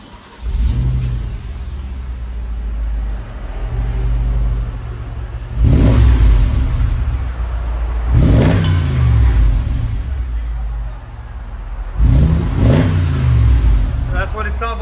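Stock-exhaust 2013 Mercedes G550 with a 5.5L V8, idling with a deep rumble and then revved three times in loud rising surges that fall back, heard close and steady.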